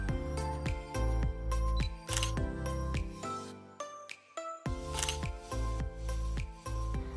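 A Canon camera shutter clicks repeatedly during outdoor bird photography, with a series of sharp, crisp clicks arriving in quick bursts and short pauses, close and clear.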